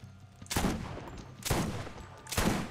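Gunfire in the video game Borderlands: three loud, evenly spaced bursts of rapid shots, each with a short trailing rumble, heard close and without talk.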